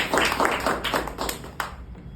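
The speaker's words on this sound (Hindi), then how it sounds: "जोरदार ताली से स्वागत कीजिए।" Audience at a book presentation gives a burst of applause, dense clapping that starts loud and gradually thins out to a few scattered claps.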